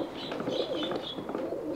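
A racing pigeon coos softly and continuously in a loft, its low, murmuring calls faint and fairly close.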